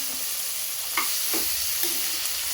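Masala being stirred in hot oil in a pan for an Andhra-style broad beans mutton curry: steady close sizzling with a few sharp scrapes of a spoon against the pan.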